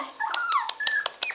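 A young puppy, one of a small litter, lets out a run of high, wavering whimpers and squeaky yips close by. The cries repeat and rise and fall in pitch, with no talking over them.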